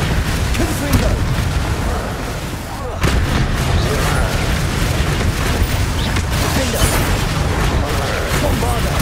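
Confringo spell explosions in Hogwarts Legacy on PS5, a dense, loud barrage of booming blasts and bursts that carries on almost without a break, with one short dip partway through.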